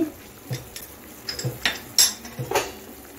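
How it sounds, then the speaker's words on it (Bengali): A metal spoon stirring vegetable soup in a pot, giving light clinks and taps against the sides at irregular moments, close and moderately quiet with no talking. "এখন ভালো করে মিশিয়ে নিচ্ছি"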